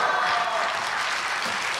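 Congregation clapping in a church during a New Year blessing prayer service, a steady dense wash of applause filling the room for the whole stretch with no voices over it.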